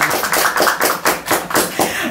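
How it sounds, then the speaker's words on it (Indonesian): Hands clap in quick, even bursts about four times a second during a podcast conversation, crisp and close, with voices talking over them. "Tepuk tangan itu."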